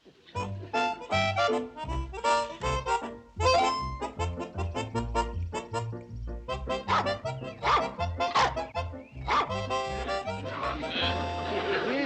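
A dog in a 1960s sitcom scene in rural Hooterville yaps and barks in quick repeated bursts, loud and close, mixed with a bright musical score and occasional voices.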